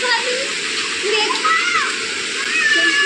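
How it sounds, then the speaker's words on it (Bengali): Rain falling steadily outdoors on a cloudy day, a dense continuous hiss of water at close range, with a voice talking over it. "তো বৃষ্টি পড়ছে"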